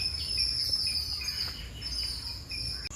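Ring-necked parakeets, a green pair in Sri Lanka, give shrill, high chirping calls over steady outdoor insect buzz, with repeated sharp notes throughout.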